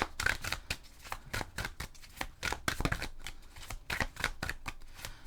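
Tarot cards being shuffled by hand close up: rapid, irregular bursts of papery flicks and riffles repeating throughout, with no talk.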